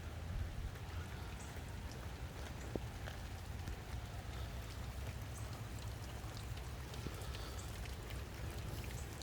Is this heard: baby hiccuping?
no